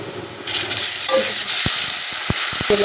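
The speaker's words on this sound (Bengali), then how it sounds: "এখন হচ্ছে আমি আদা বাটা আর রসুন বাটা ফার্স্টে দিয়ে দিলাম" Ginger and garlic paste dropped into a pan over already-fried onions bursts into a loud, continuous sizzle, with a few sharp utensil clacks near the end.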